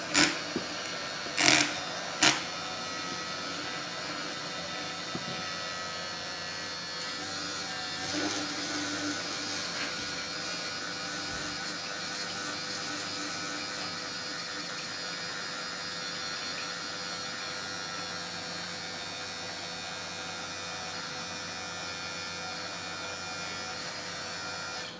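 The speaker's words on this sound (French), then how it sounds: "Il faut juste mixer jusqu'à ce que l'émulsion se forme." A small electric mixer blends homemade moisturizing cream until it emulsifies, giving a steady, even whir throughout with a few brief clicks near the start.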